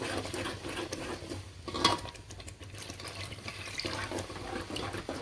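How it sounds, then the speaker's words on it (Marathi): Water is poured into a pan of ground masala paste for a spicy crab curry, a faint continuous splashing and trickling with some clatter, heard without talk. "थोडंसं पाणी टाकून घेऊ याला शिजायला मसाला."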